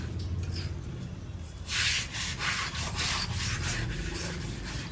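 A brush scrubs stuck paint off a surface during household cleaning: steady close rubbing under background noise, then a stretch of harder, rhythmic strokes in quick bursts.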